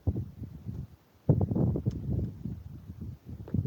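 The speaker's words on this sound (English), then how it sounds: "It's windy." Gusty wind buffets the microphone beside a van in low, rumbling bursts, with a brief lull before a strong gust returns and keeps blowing.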